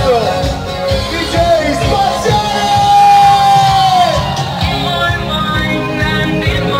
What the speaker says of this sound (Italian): Facciamo un applauso al nostro DJ